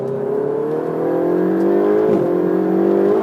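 A car with a 4-litre twin-turbo V8 of 670 horsepower pulls hard at high speed, a loud, steady engine drone rising in pitch with a brief dip midway, close and continuous with no talk.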